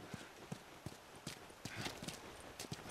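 Horse hooves clip-clop in The Last of Us, a steady run of soft, evenly spaced hoofbeats at a moderate distance, quiet and alone without speech.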